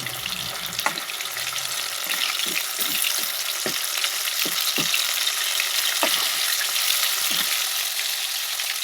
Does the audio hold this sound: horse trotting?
no